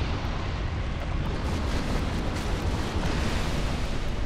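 A boss explosion in the Dark Souls video game, heard as a continuous loud roaring rumble that holds steady throughout with no talk over it.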